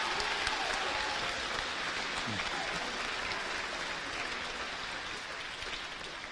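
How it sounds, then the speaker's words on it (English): A steady wash of audience applause fills a hall at a high school senior awards night, evenly sustained and moderately distant throughout, with no voices standing out. "Let's have another round of applause."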